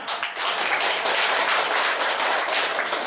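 Dense audience applause at a Muhammadiyah gathering, continuous loud clapping filling the whole stretch without talk.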